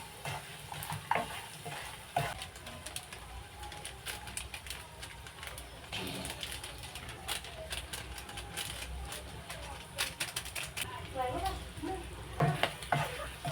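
Mutton frying in a pan without tomato, stirred steadily, giving a continuous close sizzle with repeated scraping and clattering strokes of the spoon; no talk.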